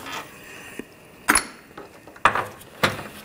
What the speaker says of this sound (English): Take these two bolts out, use a 21 millimeter socket.